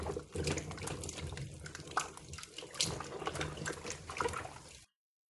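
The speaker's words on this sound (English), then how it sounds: "before that, of course, I have to give them a very, very thorough wash." Onions being given a thorough wash under running water, a steady splashing and trickling stream with irregular sloshes close by, stopping abruptly near the end.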